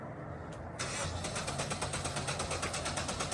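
A swapped-in SR20 engine in an Infiniti G20 cranks and catches after a brief pause, then settles into a steady, somewhat rough idle with a faint rhythmic pulsing, close and alone.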